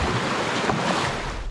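Waves rush around a canoe surfing river rapids on the Elk River, a loud, continuous wash of water with wind buffeting the microphone.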